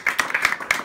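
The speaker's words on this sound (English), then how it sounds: "Big round of applause." Brief applause from an audience at a personal development event, a short burst of distinct, fairly close hand claps.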